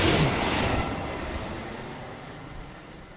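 LNER Class 43 train passing at Cramlington railway station, a loud broadband rush close by at first that steadily fades as it moves away.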